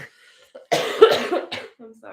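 A woman coughs indoors, one harsh, close burst with a short follow-up, set against otherwise near-quiet surroundings.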